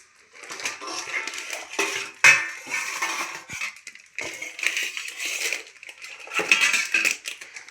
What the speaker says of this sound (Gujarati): બે ડીશમ ફટાફટ કાજુ આપણે તોડી નાખીએ